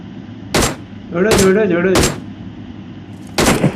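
Gunfire in a multiplayer video game, several short sharp bursts of shots spaced across the moment, with a voice or tonal sound in between.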